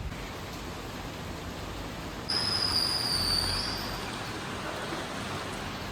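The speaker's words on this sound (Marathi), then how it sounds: "कसला जबरदस्त पाऊस चालू झालेला आहे. रात्रीपासून पाऊस पडतोय." Heavy rain falling steadily at night, a dense, constant hiss close by, with a brief high whine rising over it midway through; no one talks.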